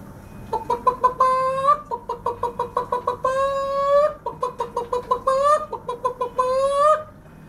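A voice imitates a hen's cackle after laying: repeated quick clucks building into drawn-out squawks, several bursts in a row, close and loud.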